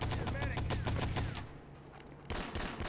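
Rapid MP40 submachine gun fire and rifle grenades in a WWII shooter video game, a fast rattling burst up front that drops off briefly before more shooting picks up, with faint voices underneath.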